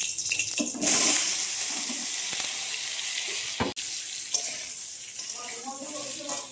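Potatoes frying in hot oil in a home kitchen for biryani, a steady broadband sizzle running throughout at moderate loudness, with a brief louder burst near the start and a short clatter midway.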